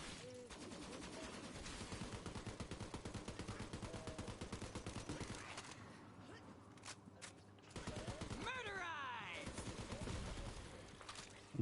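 Rapid gunfire and explosions in Borderlands 3 crackle in dense, continuous bursts, with short pauses and sweeping effects, quiet overall, with voices talking faintly.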